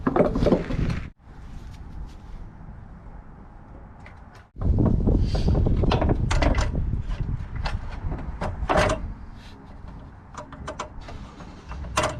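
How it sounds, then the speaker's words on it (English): A hand ratchet clicking steadily while backing a bolt out of a Jeep Wrangler during a rock slider install, close and fairly loud, with a brief pause partway through and some wind noise. "Taking off the last bolt."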